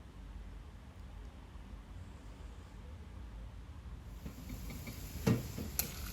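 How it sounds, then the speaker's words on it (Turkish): A hiss of sizzle swells up as hot fried semolina dough rings drop into cold syrup after a few seconds of steady low background noise, with a couple of sharp crackles near the end. "Hemen soğuk şerbetin içinden bakın sesi de duyuyorsunuzdur. Hemen cos diye bir ses çıkıyor."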